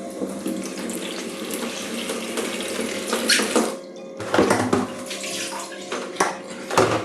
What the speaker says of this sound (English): Let's see how much water exits in 1 minute